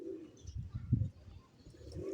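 A lightweight pigeon coos softly in a low, throaty series of calls, close and fairly quiet.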